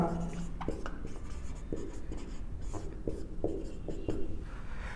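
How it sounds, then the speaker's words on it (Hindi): Handwriting during a lecture, a steady series of close scratchy pen or chalk strokes in quick irregular bursts over a faint room background. "मैं देखो लिख करके चलूंगा यहां"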